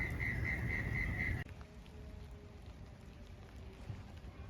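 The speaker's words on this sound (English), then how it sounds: "it's raining today, so we're not going to burn" Steady rain patters down in a soft, continuous hiss, with a high electronic whine during the opening moments.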